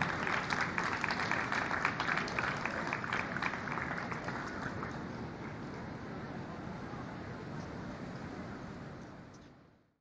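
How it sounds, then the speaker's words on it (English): Audience applause at the City of Toronto United Way employee campaign launch, a steady wash of clapping that holds evenly for several seconds and then fades out at the end. "So give yourselves a round of applause"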